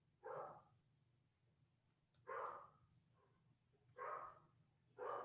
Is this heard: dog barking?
yes